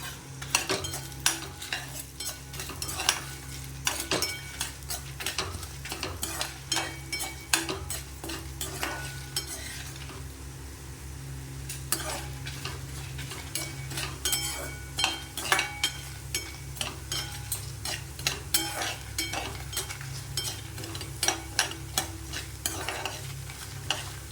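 Ingredients roasting in oil in a metal pan for sambar, stirred steadily with a spoon: continuous close scraping strokes over a constant sizzle, with brief clinks of the utensil against the pan and no talking.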